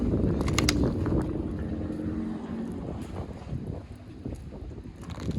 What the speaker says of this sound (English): And the wind here is crazy.